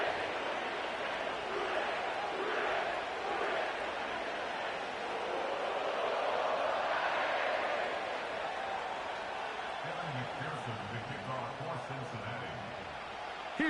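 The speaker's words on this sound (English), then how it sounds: "sellout crowd has arrived at Paycor Stadium in Cincinnati" A sellout stadium crowd at Paycor Stadium in Cincinnati roars steadily in a Madden 25 football game, a broad continuous murmur running under commentary.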